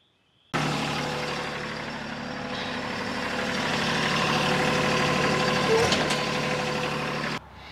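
A TYM T264 tractor with a backhoe idles in a steady, low rumble continuously for several seconds, close and fairly loud, cutting off abruptly near the end.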